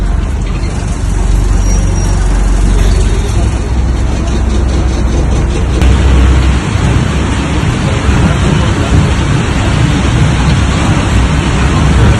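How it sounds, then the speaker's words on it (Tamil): Rain falling on and leaking into a battered old passenger bus on a rural route in Tiruvannamalai district, a loud steady wash of rain and vehicle rumble heard from inside. "ஓட்டை உடைசல் பேருந்தில் கசியும் மழைநீரில் பயணிகள் நனைந்தபடி செல்லும்"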